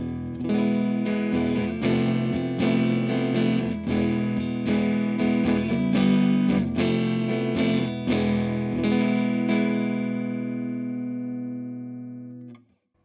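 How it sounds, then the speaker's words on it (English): An electric guitar on the neck pickup plays clean, ringing chords through a Laney Lionheart L20H 20-watt all-tube amplifier with digital reverb. The strummed notes ring out and fade into a long reverb tail. "it is a digital reverb, but it sounds very natural"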